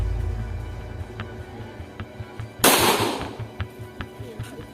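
A single loud gunshot cracks out at an outdoor firing range, standing well above a steady low rumble and faint intermittent knocks in the background.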